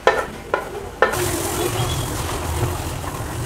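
Shrimp go into hot oil in a pan for a prawn and taro-stem dish: three sharp taps, then a sudden loud, steady sizzle with stirring that carries on close and continuous.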